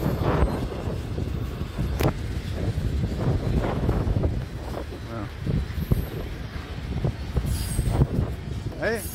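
A CPKC freight train moving through Dorval station in Montreal, heard as a continuous rumbling roar mixed with heavy wind buffeting on the microphone, with some sharp knocks and a few bursts of louder noise.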